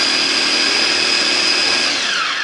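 An electric blender grinds curly red chilies, red and green bird's eye chilies, garlic and shallots, a loud, steady high-pitched whir that holds constant before its pitch begins to drop as the motor winds down at the end.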